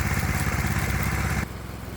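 A Predator 212 small engine runs steadily with a carburetor swap under alternator load, a close, loud, even chugging drone that drops abruptly in level near the end.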